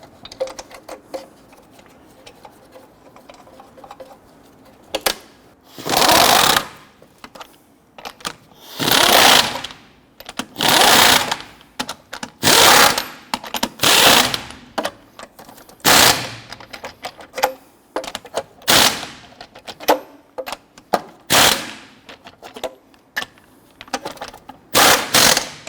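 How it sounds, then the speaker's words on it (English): An impact tool snugs lug nuts onto a Honda Ridgeline wheel in loud rattling bursts of one to two seconds, repeated many times with short quiet gaps between them, close and without talking. "Once these are all started, I'm going to go ahead and snug them all down."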